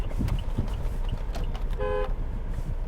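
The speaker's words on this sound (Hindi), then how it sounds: "बट फिर भी ट्रैफिक तो है" Sunday street traffic in Mumbai rumbles steadily, and a car horn gives one clear honk lasting about a quarter second near the middle, with no talking.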